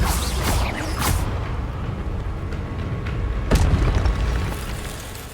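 Fire spell blasts in the wizarding video game Hogwarts Legacy: loud booming bursts, a couple close together early and another heavy one later, each trailing off into a rumbling roar.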